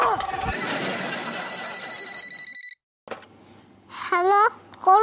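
A telephone rings indoors in a family home, a steady electronic bell tone lasting about three seconds before cutting off, followed by a short break and then voices talking.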